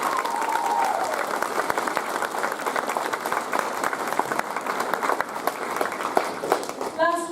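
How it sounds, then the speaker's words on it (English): Sustained applause from a school audience honouring prize winners at a Year 9 prize giving fills the hall as a dense, even roar of clapping, with a voice briefly heard over it at the start. "Another huge round of applause for all of our prize winners and for Izzy."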